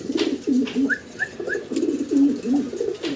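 A German Shield pigeon coos close by in repeated soft, throaty phrases, loud and clear, with a few brighter call notes in between and no talk.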